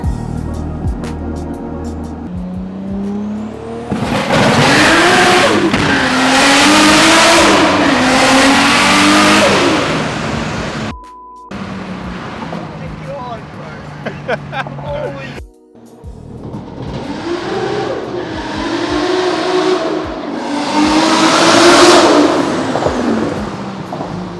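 A Toyota GT86/Subaru BRZ with a swapped differential accelerates hard, its engine note rising loud and close through repeated revving pulls, with a brief drop between runs.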